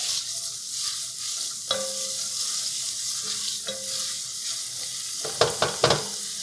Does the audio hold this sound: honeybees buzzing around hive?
no